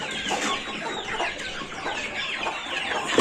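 Young chickens cluck and fuss together nearby as they wait for egg feed, a dense, lively chorus of overlapping clucks with no talk.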